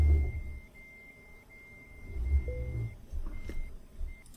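A truck backing up in Euro Truck Simulator 2 sounds a steady high reversing beep in long repeated tones over a low engine rumble, fairly faint, with a short break partway through before the beeping resumes.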